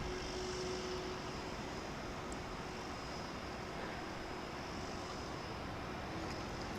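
Aircraft at DFW International Airport heard as a constant, broad engine roar with a faint steady whine, unchanging and continuous, with no voices.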